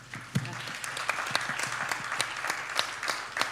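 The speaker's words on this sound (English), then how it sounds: "A round of applause, please." Steady applause from a conference audience after a speaker finishes, a dense wash of clapping with a few sharper individual claps standing out, moderately loud throughout.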